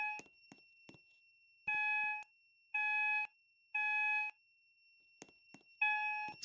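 Repeating pulses from a Simplex building fire alarm, four evenly spaced electronic horn blasts over a faint steady high tone, separated by clicks and taps, with no voices.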